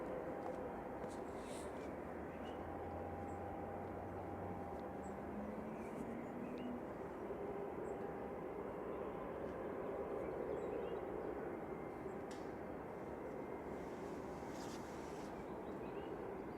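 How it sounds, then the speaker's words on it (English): An Eastern Airways ATR 72-600 turboprop departing Manchester Airport, a steady distant engine roar and broadband rumble sustained throughout, with a rising tonal whine drifting upward, faint and far off. "So Eastern Airways ATR 72 600 off to Humberside, and up already."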